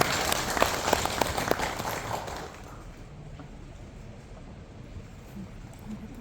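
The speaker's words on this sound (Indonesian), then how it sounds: "Tepuk tangan untuk beliau-beliau semua." Applause for university rectors and foundation leaders at a hearing with a parliamentary commission in Papua, a short burst of clapping that fades out after a couple of seconds, leaving quiet room noise.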